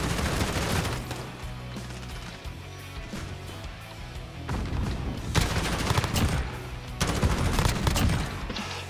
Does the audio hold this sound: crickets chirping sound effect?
no